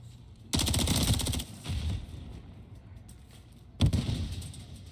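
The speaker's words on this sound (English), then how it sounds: "He is shooting." Gunfire in a competitive team shooter match between Ontario Sled Dogs and Phoenix Aces: a sustained burst of rapid automatic fire, a brief pause, another volley, then a sharp loud shot near the end, fairly close and with no voices.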